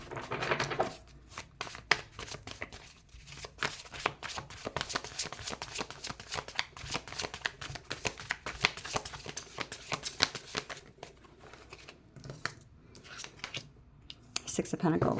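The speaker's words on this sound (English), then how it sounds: "Okay, so let me just go ahead and shuffle." Tarot cards shuffled rapidly and repeatedly close up, a dense riffling flutter with short breaks between bursts.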